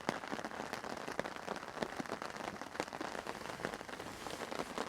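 Heavy rain pelting a tent tarp while camping, a dense, continuous patter of countless drops at fairly low volume, with no speech over it.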